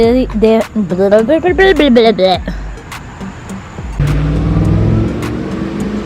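A UPS delivery truck's engine rumbles past close by a garden after someone speaks, a steady low drone that swells and lingers.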